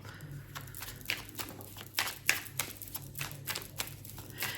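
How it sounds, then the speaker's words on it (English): Tarot cards being shuffled by hand, giving a steady run of soft, close riffling and slapping bursts with no talking. "Let's shuffle on it."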